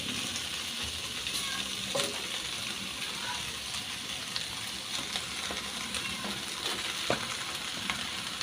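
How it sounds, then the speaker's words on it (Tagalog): Two salmon heads going into a bubbling pot of sinigang, with a couple of brief splashing thumps over a continuous hiss and simmer of hot liquid. "Then ilalagay natin ang salmon."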